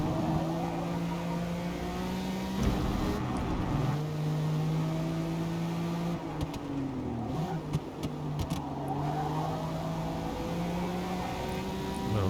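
Acura NSX race car in the Forza Motorsport video game, its engine droning and rising through the gears with shifts, lifts into corners and renewed acceleration, loud and continuous from the driver's perspective, no speech.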